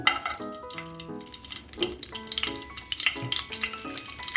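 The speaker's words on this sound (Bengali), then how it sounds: "এখন আমি একটা কিউব বাটার দিয়ে দিচ্ছি" A cube of butter sizzling in hot white oil in a nonstick kadai, with crackling frying and light stirring and utensil clinks throughout, close and moderately loud.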